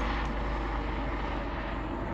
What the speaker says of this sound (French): Il y a un hélicoptère, je fais une petite pause.